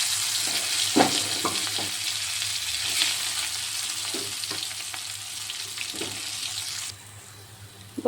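Aloo paratha filling sautéing in a kadai with cumin and salt: a steady soft sizzle with occasional clinks and scrapes of stirring, close and fairly quiet, with no voices.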